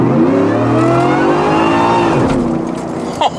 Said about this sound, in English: That was just a constant freaking burnout from 40 miles an hour with traction control off.